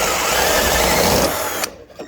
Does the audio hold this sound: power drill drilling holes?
yes